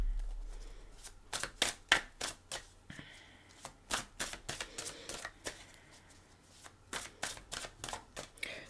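Tarot cards being shuffled by hand give a series of crisp, close riffles and snaps in irregular bursts, fairly quiet, with no one speaking.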